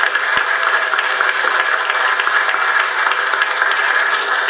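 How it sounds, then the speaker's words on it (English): Dense, steady applause from an audience honoring William Cartwright Sr., the man who saved the Watts Towers from demolition in 1958; broad continuous clapping fills the whole stretch with no voices over it. "Let's give him a round of applause"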